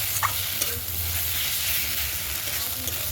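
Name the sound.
fish head being sautéed in a pan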